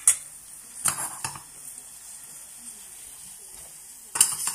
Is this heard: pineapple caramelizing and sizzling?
yes